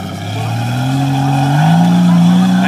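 4x4 car engine at an off-road night track revving hard and labouring as it struggles uphill, pitch climbing steadily, loud and close, with people talking over it.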